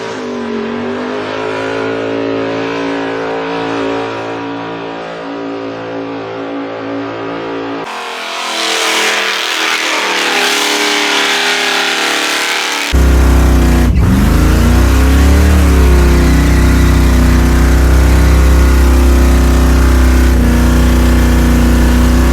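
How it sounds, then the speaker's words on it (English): At a burnout competition, a Hawaiian jet boat car does a burnout, its engine droning and then screaming at high revs, very loud and sustained, with tire noise building as the revs climb. "Putting in a great burnout so far."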